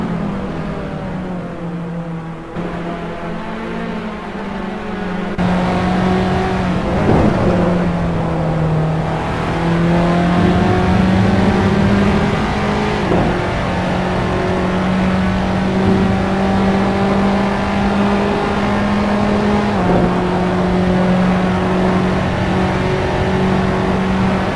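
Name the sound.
SS3 race cars racing at Spa in video game Assetto Corsa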